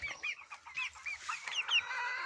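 Cochin chickens, young roosters and a Silkie-Cochin cross cluck and chatter in short, choppy calls nearby, fairly faint, ending with a longer drawn-out cry.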